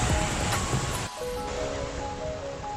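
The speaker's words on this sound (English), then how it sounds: "I don't know if you can hear me over the waves." Ocean surf on Tenerife South beach rushes in a dense, steady wash of breaking waves, loud and close, with no voices.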